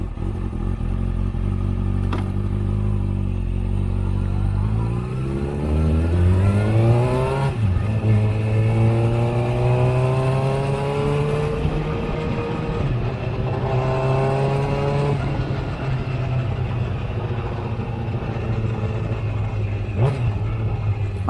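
A Kawasaki ZX6R sport motorcycle engine heard from on board, revving and climbing through gears with rising and falling whine, loud and close with no talking.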